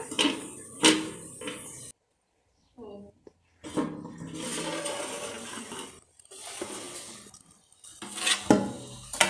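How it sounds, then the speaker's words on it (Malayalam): A lid goes onto a pot of homestyle Kerala beef fry with a few sharp metallic clanks and clinks, then a voice talks over quieter kitchen rustling. "നമുക്ക് അടച്ചു വെക്കാം"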